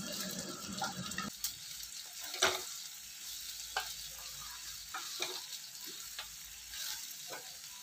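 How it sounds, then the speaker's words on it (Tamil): Onions sautéing in a pan: a steady background sizzle with occasional sharp scraping and stirring taps, moderately quiet and close. "வெங்காயம் நல்லா வதங்கிடுச்சு."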